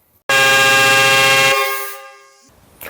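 A loud, blaring Vitol pneumatic air horn with twin trumpets sounds once for just over a second, then cuts off and rings briefly into silence.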